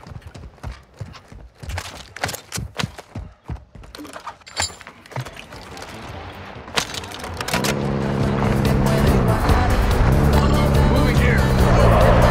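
In the shooter game Warzone, a vehicle starts up after a stretch of hoofbeat-like clatter and drives, its engine building to a loud, steady roar over the last several seconds, with players talking at intervals.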